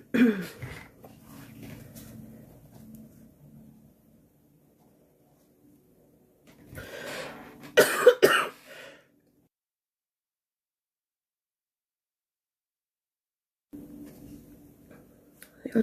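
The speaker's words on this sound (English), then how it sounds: "Oh, I'm gonna have another coughing spasm." A short burst of throat clearing and coughing, close and fairly quiet, separated by stretches of near silence.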